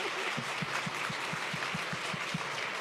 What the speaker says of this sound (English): can we please give our panelists a loud and warm round of applause?